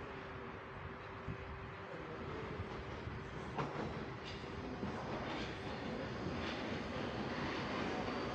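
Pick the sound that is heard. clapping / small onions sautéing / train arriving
train arriving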